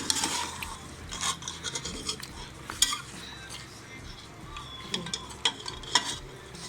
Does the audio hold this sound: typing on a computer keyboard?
no